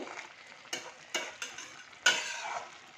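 A spoon stirs a Bengali tangra fish jhal chochori with roasted coriander-cumin powder in a pan, with several distinct scraping strokes at an uneven rhythm over a faint sizzle, close and fairly quiet.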